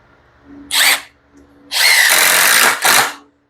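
A power drill drives 2.5 to 3 inch screws into the wood of a new work table, with a short whir, a pause, then a longer grinding run and a final burst, loud and close.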